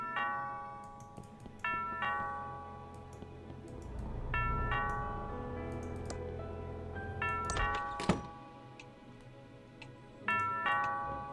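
A doorbell in the video game Thimbleweed Park rings out in repeated bright chimes, several ding-dong rings spaced across the clip over a soft ticking background, with a sharp knock-like hit near the middle.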